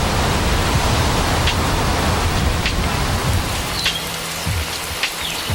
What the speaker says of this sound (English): The lake is replenished by Panama's heavy rains.